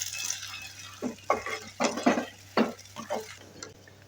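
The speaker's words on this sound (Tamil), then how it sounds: "வெங்காயம் கொஞ்சம் வதங்கட்டும்" Onions and green chillies being sautéed and stirred in a pan, with soft scraping stirs coming in irregular bursts over a faint background hum, fairly close and moderately quiet.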